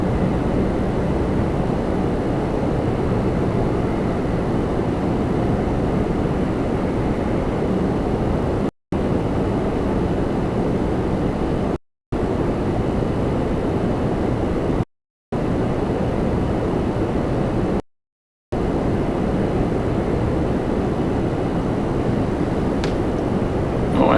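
Boeing 777-300ER jet airliner at Toronto Pearson airport, a broad, steady roar of jet engines sounding at moderate distance for a long stretch, interrupted by several short gaps of silence, with no voices.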